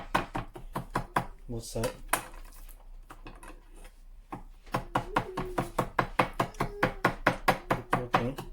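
A knife scoring beef sirloin steak before marinating, a rapid, even train of crisp taps against a cutting board with a short pause midway, close and clear, with a few spoken words.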